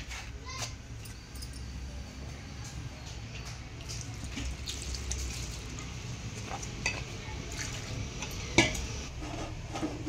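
Snack dough is mixed loosely by hand in a bowl, giving soft, wet squelching and stirring sounds with occasional light clinks of a dish, over a low background hum.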